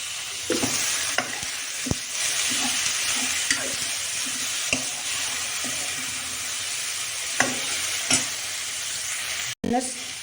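Boiled cauliflower, peas and potato fry and sizzle in a pan as a spoon stirs them, bringing a continuous close hiss and periodic sharp scraping knocks against the pan. No one speaks.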